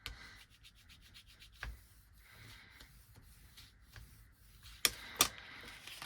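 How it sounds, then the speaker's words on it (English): A fold in journal paper is burnished by hand, a soft steady rubbing scrape repeated in short strokes, close and quiet, with a couple of sharper taps near the end. "I'm going to fold this one. I'm going to just fold it randomly there. I'm going to burnish that."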